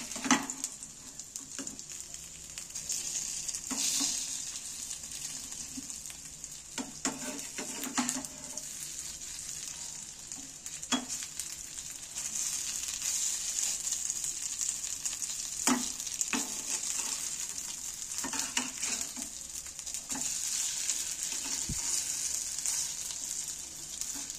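Eggplant slices fry in a pan over a low flame, a constant close sizzle broken by scattered clicks and scrapes as the pieces are flipped one by one.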